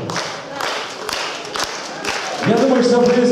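Audience applause for the Ildan dance ensemble on a concert stage: a dense wash of many hands clapping at a steady level, with bright tonal music coming in over the clapping for the last second.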